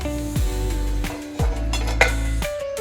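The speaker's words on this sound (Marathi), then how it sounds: "परत एकदा थोडे 5 मिनिटे मी झाकून ठेवणार आहे" A metal lid goes onto a pan of spinach cooking for a dry palak sabzi. Several sharp metallic clinks and clanks ring out close by, with a steady hum underneath.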